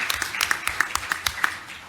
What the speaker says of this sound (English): I'm just going to clap